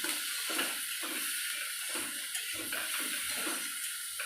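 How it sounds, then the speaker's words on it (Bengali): Water pours steadily into a pot of chicken soup, a continuous splashing wash close by with soft gurgling pulses, heard alone with no talk. "এই যে এবার আমি জল দিয়ে দিচ্ছি পরিমাণ মতো।"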